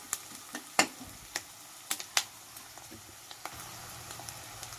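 A spoon scrapes and taps sporadically against a pan while food is mixed, producing quiet irregular clicks over a faint sizzle.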